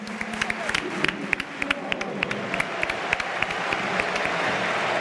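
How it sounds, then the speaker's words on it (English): Stadium crowd applauding at Montjuic during an FC Barcelona versus Young Boys Champions League match, a dense wash of distant clapping and crowd noise with sharp individual claps popping out and swelling slightly toward the end. "Round of applause, guys."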